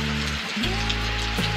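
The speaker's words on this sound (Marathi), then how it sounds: "जोरात पाऊस पडतोय" Heavy rain pours down in a flooding Konkan village in the countryside, a dense, steady hiss of falling water with a constant low hum running underneath.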